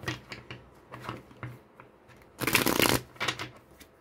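Spanish playing cards are shuffled and tapped close by in quick riffling bursts, with one louder, denser shuffle near the middle, no talk.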